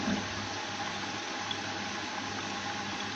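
A Bosch Serie 6 washing machine fills with water, a steady close rush and hiss of water flowing without a break or any talking.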